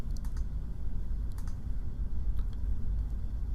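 Mouse buttons click in scattered single and double taps while paging through records in Epi Info 7 software, close and crisp over a low background hum, with no talking.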